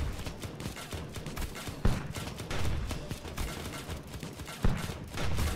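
Tower weapons in the game Steampunk Tower 2 fire at a robot in a dense, rapid rattle of shots, with a few louder bangs standing out over the steady barrage, heard alone without speech.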